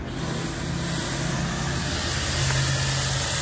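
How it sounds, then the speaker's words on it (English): A blower fan on a 20-inch steam boiler with copper fire tubes, fired by wood, roaring steadily and close by, a constant broadband rush with a low mechanical hum underneath and no talk. "And the blower is right here."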